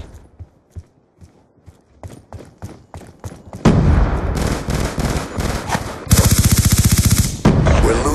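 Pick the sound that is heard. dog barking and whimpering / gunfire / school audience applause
gunfire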